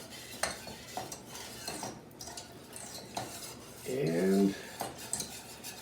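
Cabbage frying in a pan for a Pennsylvania Dutch dish, with soft sizzling under repeated clinks and scrapes of a utensil stirring, plus a brief louder rattle of a pot; a single word is spoken.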